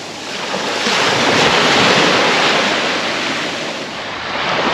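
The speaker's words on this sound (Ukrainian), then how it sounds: "А ось і воно знову море." Sea waves wash steadily onto a quiet Sicilian beach near Novara di Sicilia, with loud wind buffeting the microphone; the surf swells and eases in a continuous roar with no voices.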